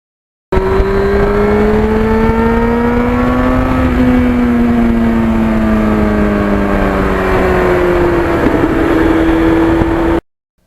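A 1991 Yamaha FZR 1000 engine revving hard through the gears, loud and close, its whine climbing and dropping with each shift for about ten seconds.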